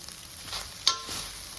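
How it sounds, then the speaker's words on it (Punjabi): Okra roasts in a pan over a full flame, giving a soft, low sizzle with quiet stirring scrapes and one sharp clink near the middle. "ਤਕਰੀਬਨ 10 ਮਿੰਟ ਹੋ ਗਏ ਆਪਾਂ ਨੂੰ ਭਿੰਡੀਆਂ ਨੂੰ ਭੁੰਨਦੇ ਹੋਏ"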